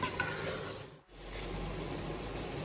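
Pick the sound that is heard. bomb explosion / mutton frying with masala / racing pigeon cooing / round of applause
mutton frying with masala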